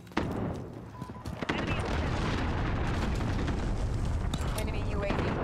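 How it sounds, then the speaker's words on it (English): A cruise missile strike in Call of Duty: Modern Warfare multiplayer, heard as a sustained, loud roaring blast and rumble that starts with a few sharp cracks and then fills the scene with dense, continuous noise. "Enemy cruise missile incoming."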